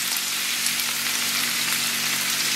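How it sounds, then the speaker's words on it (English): Sliced onions sizzle in a pan of partly cooked bacon, producing a loud, steady, close frying hiss with no pauses throughout. "So in go the onions."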